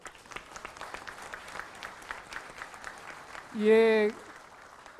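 Crowd at a public broadcast event in Jeonju claps steadily at a moderate level, and a short loud tonal blare cuts briefly over the applause near the end.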